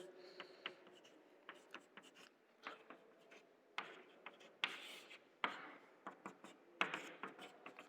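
A pen scratches across paper while a chemical structure is drawn by hand, faint and close, in short irregular strokes and ticks separated by brief pauses.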